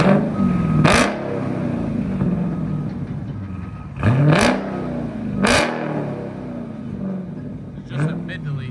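A 2023 Dodge Super Bee with a 6.4L HEMI V8 and mid-muffler delete is revved hard several times up close, sharp rising bursts over a rumbling idle, with people talking in between.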